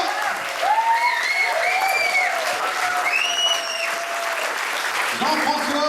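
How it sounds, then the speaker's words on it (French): Applause fills an improv cabaret as a steady crowd wash, while voices rise above it with sustained cheering and calls that hold and glide, then a short spoken exchange close to the end. "On peut les applaudir bien fort"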